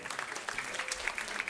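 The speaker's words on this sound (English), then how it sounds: "Another round of applause for that panel while we're getting set up" Audience applause for a panel at a regenerative food systems conference, steady mid-level clapping throughout with a murmur of crowd noise.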